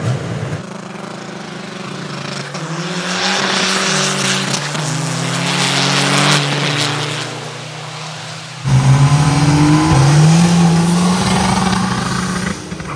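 A Peugeot 205 with a swapped Nissan R35 engine revs loudly nearby, holding a steady, droning engine note that swells and falls before cutting to an even louder, higher revving stretch.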